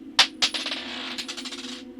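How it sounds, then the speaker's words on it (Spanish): A coin drops off a table, hits twice in quick succession, then rolls and rattles briefly before settling, clear and close in a quiet room. "otra de las monedas cae de la mesa y también rueda."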